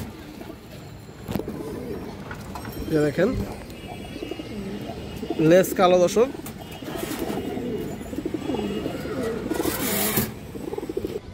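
Domestic pigeons of good bloodline, moulting in a Bangladeshi loft, coo in low repeated murmurs throughout, with someone speaking over them in the middle and other birds faintly in the background.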